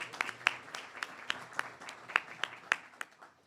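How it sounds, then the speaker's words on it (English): Sparse applause from a small audience at an internal medicine resident graduation ceremony, a scattering of individual claps with sharper ones standing out, moderately close and fairly quiet, with no other sound. "Please give him a round of applause."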